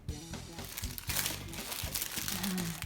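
A plastic bag being handled among permanent makeup supplies, with close crinkling and rustling bursts over a few seconds, mixed with light clunks of items being moved.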